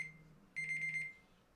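A countdown timer alarm in the game Genshin Impact gives a steady tone, then a quick run of repeated electronic beeps lasting about half a second before cutting off, clear and alone.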